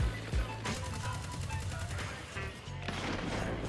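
Skyburner's Oath, an exotic Cabal scout rifle in Destiny 2, hip-fired in a steady burst of rapid, evenly spaced shots, loud and close, running on for several seconds over a game soundscape with a short pause before firing resumes.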